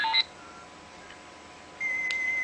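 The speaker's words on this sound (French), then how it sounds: "Et au niveau des sonneries, normalement," Short electronic iPhone ringtone tones from the Glass Orb theme: a brief bright chime at the start, a quiet gap, then a sustained clear tone near the end.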